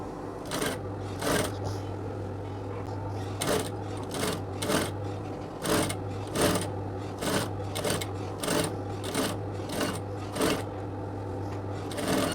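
A sewing machine stitches a curved hem on a circle skirt in repeated short bursts of rapid whirring, separated by brief pauses. It is loud and close, with a low motor hum throughout and no speech.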